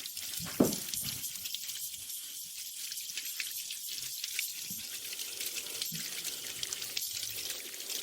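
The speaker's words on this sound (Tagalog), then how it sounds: "Bumigay ang tubo. Ang lakas ng tubig." Water gushing hard from a broken pipe, a steady rushing hiss of spraying water that holds throughout, with a few faint knocks underneath.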